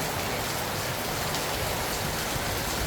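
Dense, steady downpour of typhoon rain hisses continuously without a break, loud and close, with no voices.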